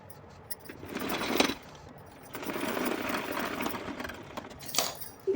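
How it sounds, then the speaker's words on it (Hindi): A sewing machine stitches a cloth drawstring strip in two close, steady bursts of rapid whirring with a short pause between, followed by faint clicks. "तो चलिए इस पर सिलाई कर लेती हूँ"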